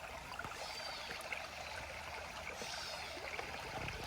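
Water rinses through a rubber sluice box mat while prospecting for glacial gold, a steady quiet trickling and streaming wash that runs evenly throughout with no talk.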